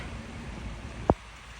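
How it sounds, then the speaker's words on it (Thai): Light rain falls in a soft, steady hiss, quiet and continuous, with one brief sharp knock near the end. "ฝนตกฝนตก ฝนตกจ้ะ ไปไปกลับบ้าน"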